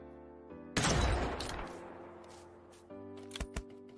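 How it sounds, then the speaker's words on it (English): A weapon reload in Fortnite, with a sharp loud burst followed by a fading tail, then a few quick mechanical clicks and clacks over a steady game-music bed. "Nice, we just reloaded."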